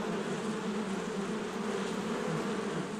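Steady, close insect buzzing from honeybees inside a hive, a continuous drone with no voices.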